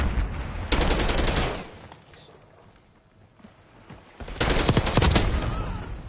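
Black Ops 6 video game gunfire while an HPT is under fire: two separate bursts of rapid automatic shots, loud and close, with a quieter lull between them.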